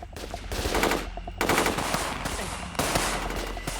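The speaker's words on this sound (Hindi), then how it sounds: "मेजर अवस्थी की टीम काउंटर फायरिंग कर रही है" Heavy automatic gunfire in a Hindi action film firefight, with rapid machine-gun bursts and single shots cracking close and loud, the volleys stopping and restarting several times.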